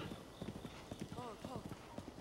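Horse hooves clip-clop at a steady walking rhythm through Kakariko Village in Zelda: Breath of the Wild, under someone talking over the game.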